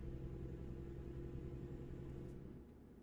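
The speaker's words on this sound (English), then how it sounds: "I like the sound of this truck." Steady low engine rumble from a truck in American Truck Simulator, droning evenly and close, then easing off slightly toward the end with no voices.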